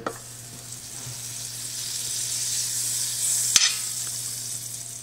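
French toast fries in butter in a pan, giving a steady, close hiss of sizzling with a low hum behind it and one sharp clack partway through.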